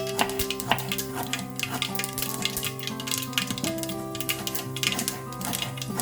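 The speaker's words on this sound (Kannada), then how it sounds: "ಸಿಡಿತಾ ಇದೆ ಅದು ಚಟಪಟ ಅಂತ" Mustard seeds and curry leaves crackle and pop rapidly in hot oil while sliced cabbage goes in, a busy close-up spatter of sharp ticks over a steady sizzle, with tonal background music.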